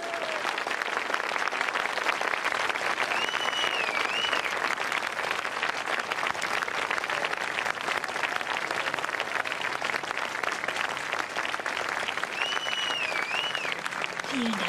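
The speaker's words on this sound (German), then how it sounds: "Applaus" A crowd applauding at a university ceremony, dense steady clapping held for the whole stretch at moderate level, with faint tonal sounds drifting above it.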